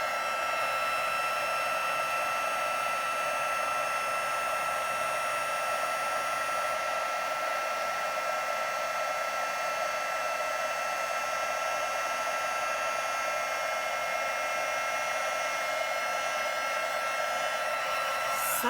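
Heat tool blowing steadily to melt embossing powder on a card, a continuous loud whirring hiss that holds unchanged for the whole stretch, close to the microphone with no other sounds.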